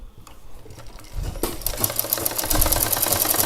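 A sewing machine running a double stitch along a petticoat seam, starting with soft ticks and then settling into a steady, loud, rapid mechanical chatter that builds slightly, close up with no talking.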